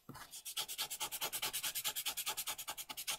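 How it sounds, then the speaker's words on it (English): Coloured pencil tips rubbed on a piece of sandpaper to clean them, heard as a fast, even run of about twenty close, dry scratching strokes with no talk. "piece of sandpaper here and I'm just going to give them a quick clean on here"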